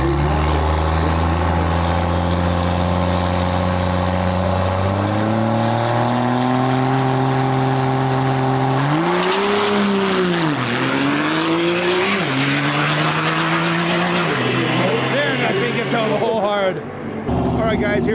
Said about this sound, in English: We have the Firebird pulling up with some kind of Chevy